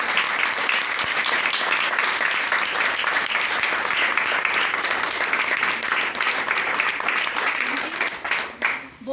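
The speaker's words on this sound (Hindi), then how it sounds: "तो एक बार जोरदार तालियां TIG कंपनी के लिए" Loud, dense applause from a crowd at a company team event, continuous clapping that holds steady for several seconds before tapering near the end.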